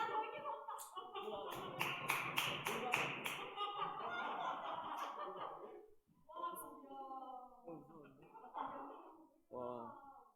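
A church youth congregation claps to welcome a speaker, a short burst of hand claps lasting a few seconds, followed by someone talking close to the microphone.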